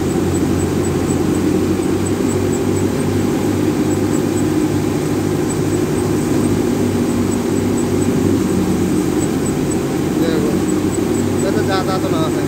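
Kubota MU5502 tractor engine running under heavy load while powering a thresher, a loud, continuous droning rumble with machinery noise that stays steady throughout.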